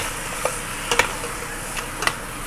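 Chicken for sinampalukang manok sautés in a hot pan, a steady close sizzle with a few scraping stirs of the spatula, no voices.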